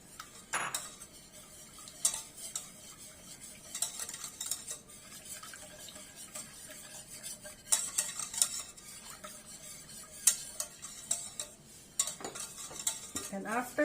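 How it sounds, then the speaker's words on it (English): Chocolate being stirred in a pot as it melts, a spoon scraping and clinking against the metal in irregular strokes, fairly quiet and close, with no talking. "We stir it until it's melted."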